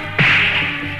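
A single loud whip crack snaps sharply, close up, then trails into a bright ringing decay from a film trailer soundtrack.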